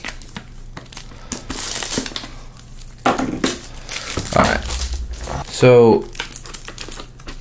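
Packaging of Bsinger+Pro dual-driver earbuds is opened close up, with loud crinkling and crackling of the wrapping and a few sharp snaps and rustles, while someone briefly speaks.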